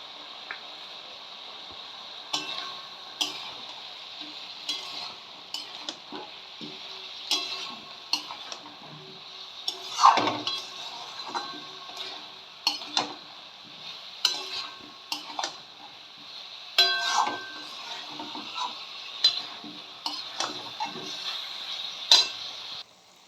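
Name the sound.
prawns being fried and stirred in a pan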